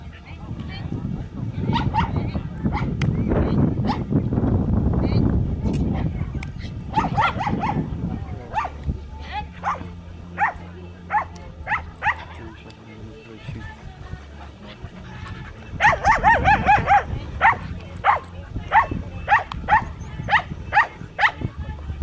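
A herding dog working a flock of sheep during a herding instinct test on the Hortobágy plain, with repeated sharp barks and panting amid livestock noise, under frequent nearby talk from people.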